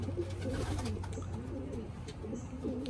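Racing pigeons coo in low, soft, overlapping calls at close range during a road training session near Pensacola, Florida, with a steady murmur of birds throughout.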